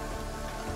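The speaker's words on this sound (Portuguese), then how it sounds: "Os deuses nos agraciaram com chuva." Rain falls in the Troy campaign of the video game Total War: Pharaoh, a steady, dense hiss of drops that fills the short moment evenly without any talking.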